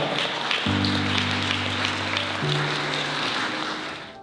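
Wedding guests applaud at a ceremony, soft steady clapping running beneath sustained organ-like music chords that shift pitch midway and fade toward the end.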